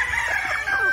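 Kelso gamefowl rooster from a game farm crowing once close by, a single strained, drawn-out crow lasting the whole second.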